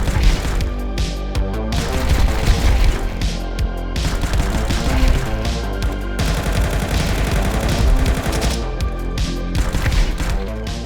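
Five-SeveN pistol firing in Counter-Strike, a steady barrage of sharp, loud shots layered with other gunfire and impacts, continuous and close with no pauses.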